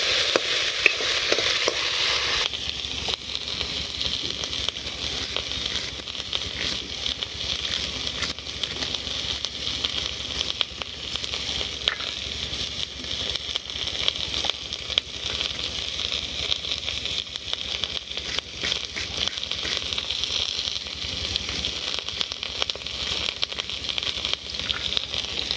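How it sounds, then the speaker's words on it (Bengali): Bitter gourd and potatoes fry in a pan with a steady, close sizzle and hiss throughout. A louder burst of frying comes at the start, with faint stirring scrapes underneath. "এর মধ্যে উস্তাগুলো দিয়ে দিলাম। উস্তাগুলো একটু ভেজে নিই।"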